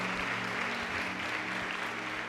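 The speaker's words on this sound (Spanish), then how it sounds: "Dale un aplauso al Señor" A church congregation claps together in a sustained, even burst of applause that fills the room at a steady level without pauses.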